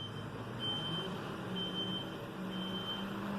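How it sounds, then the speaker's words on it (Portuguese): A garbage truck's reversing beeper repeats faint, evenly spaced tones from a distance over a steady low engine rumble and outdoor background noise. "Esse pim, é o caminhão de lixo."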